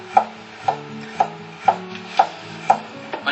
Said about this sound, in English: Start with the garlic. Garlic, just cut off this part that does not taste good. And then let's do slices,